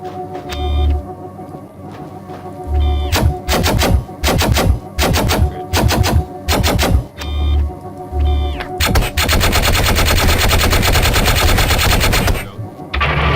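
Repeated bursts of automatic gunfire at a firing range in the 2000 PC game Gunman Chronicles, loud and close, ending in a long sustained rattling volley, with no talking over it.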